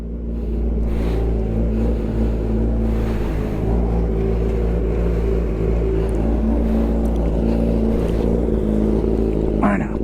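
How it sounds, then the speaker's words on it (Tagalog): A motorcycle engine warming up before wheelie riding, a loud, steady idle with a deep low rumble and harmonic hum held throughout, close by, with a faint voice underneath. "Painit tayo ng bike."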